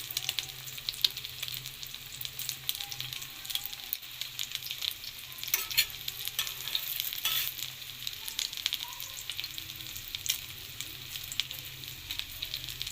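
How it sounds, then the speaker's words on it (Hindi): Shami kebabs, made with chana dal and potato, sizzle and crackle in oil over a medium flame. A steady, faint frying hiss runs throughout, with scattered pops and occasional soft scraping from stirring, and no voices. "कबाब तेज़ आंच पे फ्राई नहीं करने, ज़्यादा मीडियम फ्लेम पर फ्राई करने हैं"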